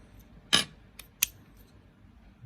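Screwdriver bits are pushed into the nylon handle of a Victorinox RangerGrip Boatsman pocket knife, giving one sharp click followed by two fainter clicks in a quiet room.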